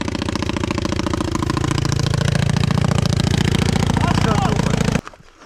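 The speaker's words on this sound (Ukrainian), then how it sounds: "Це Кавасакі так перте?" A Kawasaki motorcycle engine runs loud and close with a rough, rapid clattering pulse. It holds steady for about five seconds, then cuts off abruptly into near silence.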